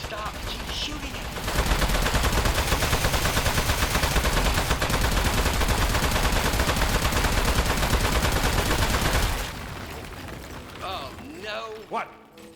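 Gunfire in Aperture Desk Job as one long, loud, sustained stream of rapid shots lasting several seconds, then stopping abruptly into quieter mechanical clatter and a brief voice.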